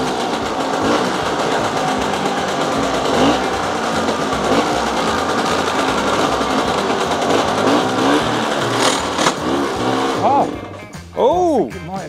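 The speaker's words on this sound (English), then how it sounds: "With the engine getting warmed up," A barn-find Lambretta scooter engine runs steadily as it warms up, a loud continuous buzzing drone that holds for about ten seconds before cutting back, with voices talking over the last moments.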